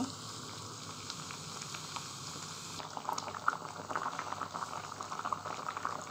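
Red lentil dal with jute leaves simmers in an open pot, giving a soft, bubbling boil with faint crackles close by. The bubbling grows a bit busier partway through, and no one speaks.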